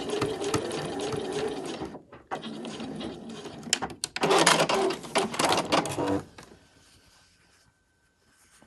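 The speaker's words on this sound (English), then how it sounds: "I'm just stitching right on the very edge." Sewing machine stitching along the very edge of a fabric scrunchie: rapid, loud mechanical whirring in bursts with short pauses, then the run stops and only a faint hum remains.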